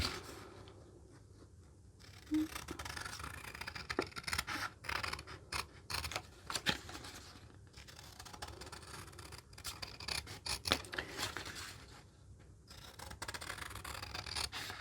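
Scissors snipping through paper envelopes in quick irregular bursts of crisp cuts and rustling, close and fairly quiet, with short pauses between runs.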